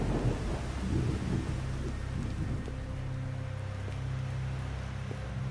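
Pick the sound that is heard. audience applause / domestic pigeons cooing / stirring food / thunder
thunder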